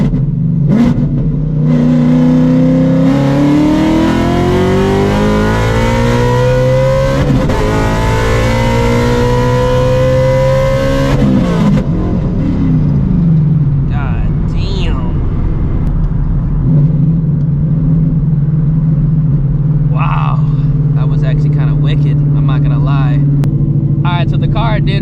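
A 900 hp Shelby GT350 accelerates hard, its engine note climbing through a long loud pull with gear changes, then settling into a steady rumble while people talk over it.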